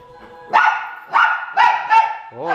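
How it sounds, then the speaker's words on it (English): Four loud, harmonic dog barks come in quick succession, close by, followed by a higher whining yelp at the end. "Oh, stop barking, you crazy!"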